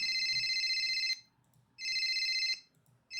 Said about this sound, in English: A shrilling ring comes out the back of my pocket, my phone buzzing incessantly.